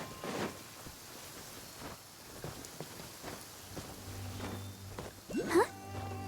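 Light rain patters steadily in the Genshin Impact game world, soft and continuous, with scattered brighter drops and a short burst of louder game sounds near the end.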